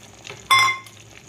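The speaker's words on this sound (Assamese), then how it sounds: "সেয়া মোৰ ভালকৈ এইখিনি উতলি আছে, দেখিছেনে? ফুটা হৈ গ'ল।" Paneer gravy for a Hyderabadi-style dish in a pan, with a short burst of bubbling and stirring noise in the middle amid quieter kitchen sounds.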